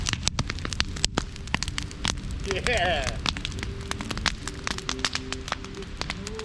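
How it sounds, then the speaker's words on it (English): Rain falls in woods at an overnight camp in a gorge, a dense pattering of drops on leaves and surfaces with sharp nearby taps and a brief voice. "And the rain's coming back."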